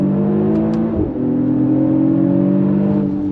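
A 2023 Mercedes-AMG GLE 53 SUV engine revs hard on a launch-control start and holds a strong, steady roar as it accelerates, loud and close, with a brief dip in pitch around a gear change.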